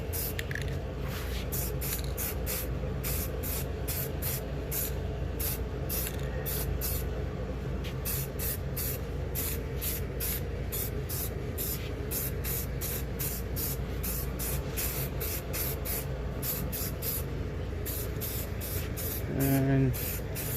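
Semi-gloss spray paint with primer hisses from an aerosol can in a long series of short, regular bursts onto Honda K20 engine parts, recorded close over a steady background hum.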